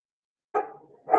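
A rescue puppy lets out a close bark, followed by a brief trailing whine, then starts a second bark right after a short pause.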